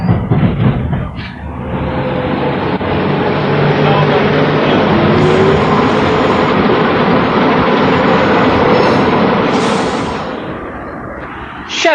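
A Sheffield tram rumbles along steadily and loudly on a hilly route for several seconds, a continuous rolling roar with a faint metallic whine, fading slightly at the end.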